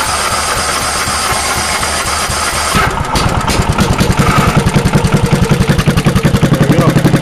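An engine cold-starts after about three seconds of cranking, then settles into a loud, close, rhythmically pulsing idle.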